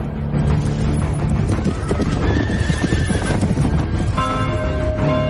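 Horse hooves clip-clopping at a brisk pace in a film, loud and close, with a horse neighing and whinnying over them partway through.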